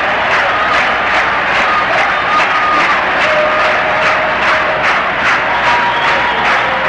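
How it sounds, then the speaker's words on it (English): Baseball stadium crowd cheering steadily during a vintage Royals at White Sox game, a loud continuous roar with rhythmic claps and shouts throughout. "The crowd alive."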